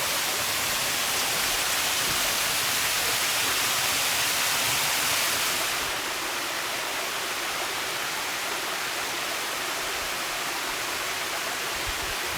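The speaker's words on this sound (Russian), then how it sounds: "Вот он, водопад Нос." The Nos waterfall at the Polkovnichyi falls roars continuously, a dense, steady broadband rush of falling water that stays close and loud throughout, easing slightly partway through, with no voices.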